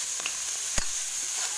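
Leafy greens sizzling in a pan in a home kitchen, a steady soft hiss with one brief stir-like knock.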